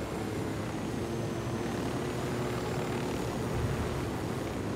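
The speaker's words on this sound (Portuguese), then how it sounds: "Pega outro helicóptero do senhor lá." Helicopter in the video game Ghost Recon Wildlands, a dense continuous rotor and engine roar, steady and fairly loud with no talk over it.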